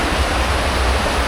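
Floodwater pours over a road after a night of heavy rain, making a loud, steady, close rushing sound like a torrent, heard alone without any talk.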